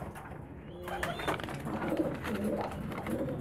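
French meat pigeons coo in soft, repeated throaty calls, fairly close, over a quiet background of light rustling and shuffling.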